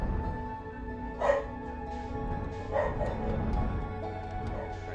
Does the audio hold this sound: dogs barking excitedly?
yes